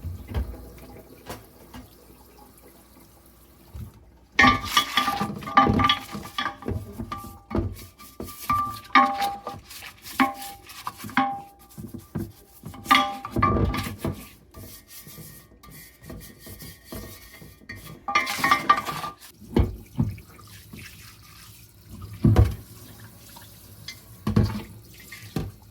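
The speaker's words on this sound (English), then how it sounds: "I typically wash it with soap and hot water like this" A new Lodge cast iron fluted cake pan is scrubbed with soap and hot water at a sink, with running tap water, rubbing and rasping brush strokes that come and go close by.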